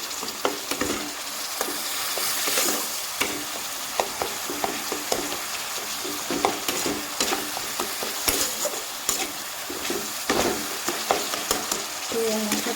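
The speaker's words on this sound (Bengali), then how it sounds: "মশলাটাকে আমি একটু নাড়িয়ে করে নেব দেখো টমেটোটা গলে গেছে" Spice masala with melted tomato is stirred and fried in a pan for a vegetarian pointed gourd dish: a steady sizzle runs throughout, broken by frequent close scraping strokes of the spoon.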